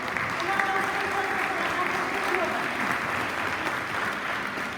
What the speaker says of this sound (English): Help me give Carlos a round of applause.